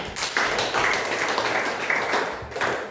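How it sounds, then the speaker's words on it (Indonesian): A classroom group gives a short burst of applause for a student who has just finished reading, dense clapping that fills nearly three seconds and then fades. "tepuk tangan buat Lista"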